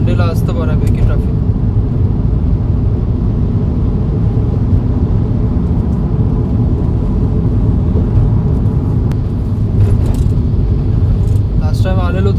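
Steady road traffic on a creek bridge during a Monday commute, a broad low rumble of passing cars and engines that stays loud and constant throughout, with a voice faintly talking over it.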